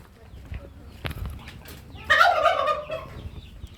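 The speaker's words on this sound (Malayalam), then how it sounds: "വെറൈറ്റി കുറേ കോഴികളുണ്ട്, പല ടൈപ്പിലുള്ള കോഴികളുണ്ട്." At a farm nursery, a bird gives a short, loud burst of gobbling clucks midway through, following a few quiet knocks and muffled rustles.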